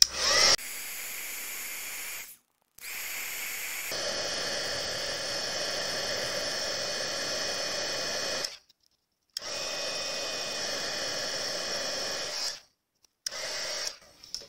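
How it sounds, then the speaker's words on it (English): A handheld embossing heat tool blows hot air in steady, loud whooshing bursts, switching on and off several times with short silent gaps between runs. "use my heat tool"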